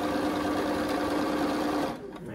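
A sewing machine stitches a four-patch quilt block with a steady, close, mechanical whirring. The sound stops abruptly near the end, leaving quieter handling noise.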